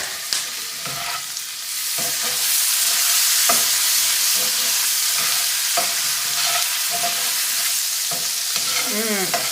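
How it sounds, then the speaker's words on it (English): Chopped garlic sizzling loudly in a hot pan for chicken Marsala, a bright steady hiss with repeated scraping clicks from a spoon stirring it, close and alone without talk. "let's go ahead and add this garlic in. Give that a stir."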